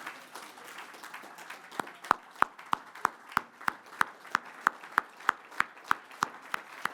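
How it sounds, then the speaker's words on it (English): A standing ovation for an honoree at a national service awards keynote: steady applause with sharp, evenly spaced claps rising above the crowd roar, moderately loud and sustained with no talk. "Give her a round of applause so that we can get her all teary one more time"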